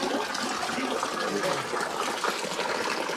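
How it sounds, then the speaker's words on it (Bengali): Spring water falls naturally from a rock face at a Cherrapunji tourist spot in Meghalaya, producing a steady, close splashing rush that continues without a break for the whole stretch. "তবে ন্যাচারালি এখান থেকে কিন্তু জল পড়ছে।"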